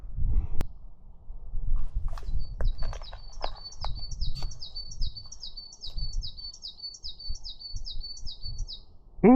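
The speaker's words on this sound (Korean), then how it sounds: "새소리 좋다." A bird sings a fast, repeated series of high chirping notes at a distance, over soft rustling and low background noise, on a mountain hiking trail near Geombongsan, Gangchon, South Korea.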